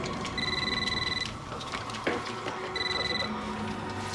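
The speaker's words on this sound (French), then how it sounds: "Attention, Théo, ça sonne." Telephone ringing indoors in a household, with two bursts of electronic trilling rings separated by a pause over a busy room background.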